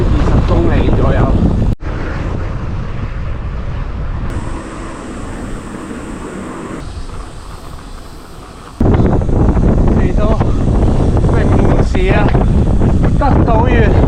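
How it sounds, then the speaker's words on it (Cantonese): A strong headwind buffets the microphone while cycling in Japan on a Takamatsu to Wakayama ride. It is a loud, continuous roar that dips briefly in the middle, then surges back. "講緊呢度全程90幾公里都係要食咁勁嘅逆風"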